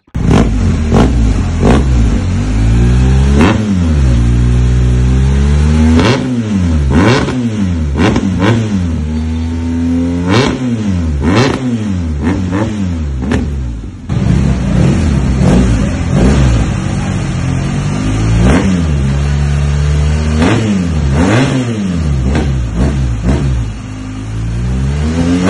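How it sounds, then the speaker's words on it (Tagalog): BMW R1250 GS twin-cylinder boxer engine fitted with an aftermarket Yoshimura exhaust, revved repeatedly in a workshop with loud, close blips rising and falling over a steady idle. "Talagang mararamdaman na ni Sir ang tunog ng GS niya dahil hindi na stock exhaust."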